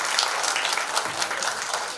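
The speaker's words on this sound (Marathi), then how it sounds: "एकदा जोरदार टाळ्या आपल्या विद्यार्थ्यांसाठी झाल्या पाहिजे" An audience at a school annual gathering applauds its students, with dense, steady clapping that fills the room for the full two seconds.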